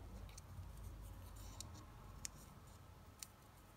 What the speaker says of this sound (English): I'm going to cut the legs and things off this ladybird again.